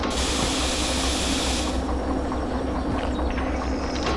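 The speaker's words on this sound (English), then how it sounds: "Now stop the train." Steam hiss as a train stops in the Derail Valley railway simulator game, a loud continuous broadband rush that fills the whole clip, brighter at first and then dulling slightly, with no talking.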